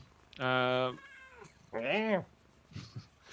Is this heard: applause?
no